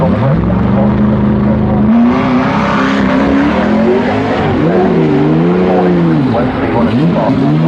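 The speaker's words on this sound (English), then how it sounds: "Olga comes howling over the brow into Malcolm hard on the brake" A classic race car engine roars loudly and close over a brow at Goodwood Festival of Speed, its pitch dropping sharply under hard braking then climbing again as it accelerates away.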